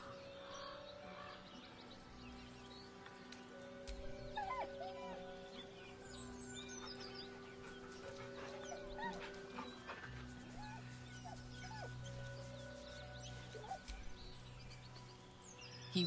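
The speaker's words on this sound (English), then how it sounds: "With a deep, heartbroken whine, the dog bows his head." A dog whimpers and whines in Baldur's Gate 3 over a steady game soundtrack with sustained tones, the soft cries recurring throughout at moderate level.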